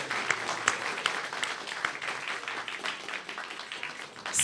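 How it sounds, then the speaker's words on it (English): An audience at a Tacoma arts presentation applauds: dense, sustained clapping from a roomful of people, fairly close and even throughout, with a few sharper individual claps standing out. "Let's give ourselves a round of applause."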